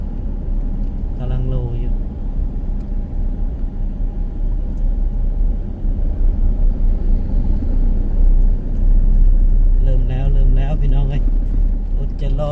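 A road roller compacts fill for a new road near Thakhek; a steady low engine rumble drones throughout, with people talking over it in stretches.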